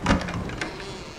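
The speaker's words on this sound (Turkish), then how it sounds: "Bu ne lan kapı açıldı." A door creaks open in the horror video game Resident Evil 7, a short burst of creaking and rattling that then fades into a quieter room tone, with no talk over it.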